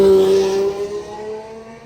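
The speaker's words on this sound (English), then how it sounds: "That was a loud Murcielago." A loud Lamborghini Murcielago drives close past with a strong, steady engine tone that fades as it moves away, with no talking.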